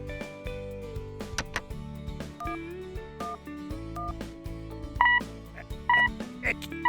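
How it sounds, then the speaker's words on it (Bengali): Series of electronic mobile phone dialing tones and beeps in quick succession, followed by short repeated tones as the call fails to connect for lack of signal. "ফোনটা তো লাগছে না, কক কক করছে, সিগন্যাল পাওয়া যাচ্ছে না"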